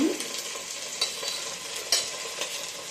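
Garlic paste and cumin paste masala stirred and fried in a pan for khichuri, giving a steady sizzle with soft scraping strokes and a few sharper clinks, close by with no talking.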